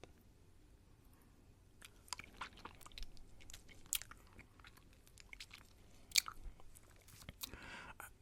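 Juicy Drop Pop sour candy is bitten and chewed close to the microphone, quiet irregular crunches and wet clicks in a hushed setting.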